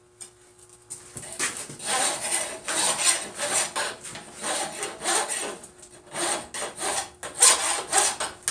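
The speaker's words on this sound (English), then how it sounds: "Alright, let's get this thing filed here." A hand file rasps over a forged steel vise part in repeated rough strokes at a steady working rhythm, close up, with short pauses between some strokes.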